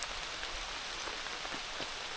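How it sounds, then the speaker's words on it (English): Steady rain falls on the Appalachian Trail near Skyland Resort on a cold day, a dense, even hiss of drops striking nearby surfaces, with occasional louder individual patters and no voices. "You like being out in the rain?"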